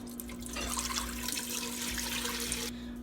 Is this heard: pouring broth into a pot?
yes